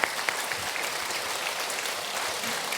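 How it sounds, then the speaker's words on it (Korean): A church congregation gives a round of applause during a Sunday afternoon service, with steady, sustained clapping from many hands throughout. "우리 큰 박수로 한 번 더 격려해주면 좋을 것 같습니다."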